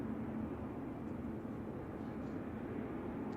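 A China Eastern Boeing 777-300 airliner at San Francisco Airport produces a steady, broad, distant engine roar with a continuous low hum that does not change.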